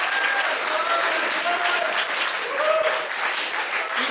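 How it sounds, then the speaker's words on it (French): Sustained audience applause at an improv show, dense continuous clapping from a full room, close and loud throughout, with faint voices and a few cheers threaded underneath. "on peut l'applaudir s'il vous plaît"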